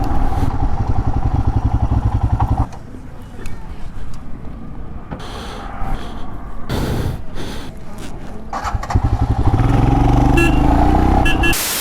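A Bajaj Pulsar 200 motorcycle rides along a road, its engine droning steadily under heavy wind rush, dipping briefly mid-ride and growing louder again toward the end.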